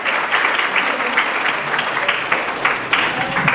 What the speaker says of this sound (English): could give a round of applause to the parents